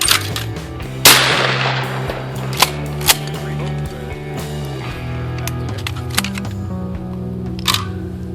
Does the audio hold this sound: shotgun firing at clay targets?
yes